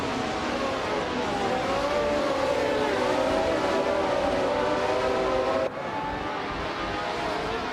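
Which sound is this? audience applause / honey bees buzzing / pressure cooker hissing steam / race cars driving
race cars driving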